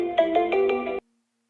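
A phone ringtone plays while a call is placed: a short, bright melodic phrase of about five repeated pulses, clear and close, cutting off abruptly after a second.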